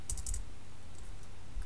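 Quick keystrokes on a laptop keyboard, a short burst of a few clicks at the start and one more near the end, faint and close with no talking.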